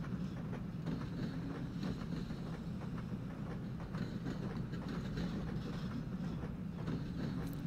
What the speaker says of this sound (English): This is a pretty slow train.